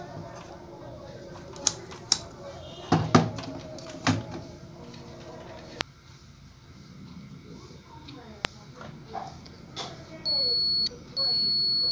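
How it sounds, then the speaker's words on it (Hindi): During a repair of a CRT TV stuck in standby, a multimeter set to continuity gives a steady electronic beep twice near the end, after handling and tapping noises, as its probes touch a shorted diode. "मीटर से टाच करने से बीप आवाज़ आ रहा है इसका मतलब है शॉर्ट हो गया"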